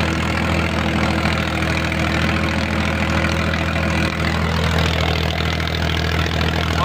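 A Powertrac Euro 50 Next tractor engine runs steadily at a low, even drone. It is close and continuous with no breaks, and no voices are heard.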